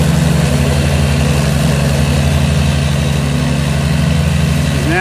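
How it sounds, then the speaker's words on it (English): A Ferris riding lawn mower's engine runs loud and close with a steady, throbbing idle and a constant low vibration, with no voices. "Doesn't my wife Robin Brown love driving this Ferris?"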